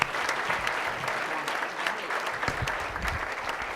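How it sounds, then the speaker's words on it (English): An audience at an evening performing-arts event applauds a speaker walking onto the stage. Full, continuous applause is heard throughout the short stretch, with no voices over it. "Please welcome to the stage, Regina Lee."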